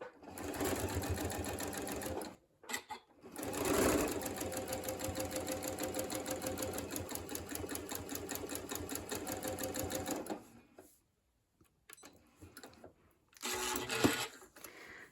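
A sewing machine stitches pinwheel and solid quilt pieces together with a quarter-inch seam in long, fast bursts of rapid mechanical clatter, broken by short pauses and a brief final run, with only faint talk around it.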